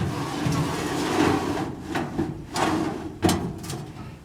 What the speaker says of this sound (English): So now I'm pulling out the second drawer.